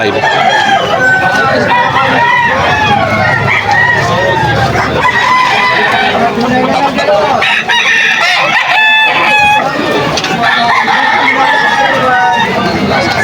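Hatch gamefowl roosters crowing repeatedly and clucking at a crowded market in Malolos, Bulacan, loud and close, with people talking throughout.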